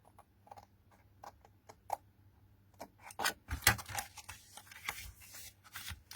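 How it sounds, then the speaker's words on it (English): Several crisp snipping cuts from scissors through card along a half score line, short and close, coming in uneven bursts with quiet gaps between them. "grab your scissors and on that half score line you cut down there"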